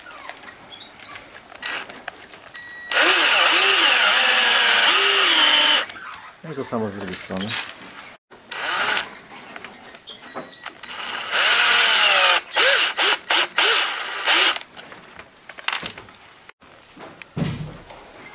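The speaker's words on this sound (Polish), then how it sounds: "Będziemy najpierw nawiercać większym wiertłem, żeby nam się to nie rozszczepiało" A power drill whines loudly in two long bursts, boring into a wooden block with a large bit, with someone speaking briefly between them and birds chirping nearby, beside a parakeet aviary.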